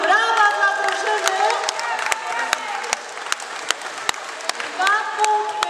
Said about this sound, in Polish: Brawa dla drużyny!